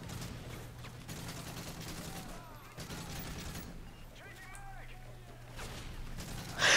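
Turret gunfire in Modern Warfare 3 Survival Mode on the Seatown map, a steady rattle of shots sitting under game noise and commentators talking throughout.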